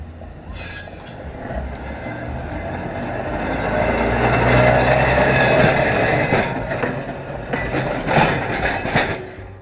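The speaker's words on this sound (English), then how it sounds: "Pittsburgh Railway's 1138, behind 4145, was built in 1937 as one of the 201 early first-generation PCC streetcars delivered to Pittsburgh Railways." A 1937 Pittsburgh Railways PCC streetcar runs at the Pennsylvania Trolley Museum, its rumble swelling as it nears, with high wheel squeal and rhythmic rail clicks growing sharper toward the end.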